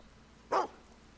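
A dog in the video game Fable 2 gives a single short, sharp bark over quiet background noise.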